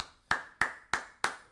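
Four crisp hand claps at an even, deliberate pace, close and clear with nothing else around them.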